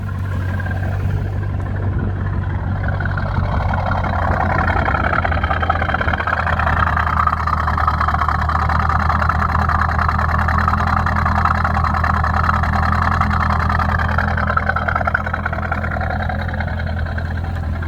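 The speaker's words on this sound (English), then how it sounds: "It sounds pretty good when it's idling, no issues." A C5 Corvette's engine and exhaust idling smoothly, a steady low rumble with a strong deep hum that holds an even, unbroken level throughout, close and loud.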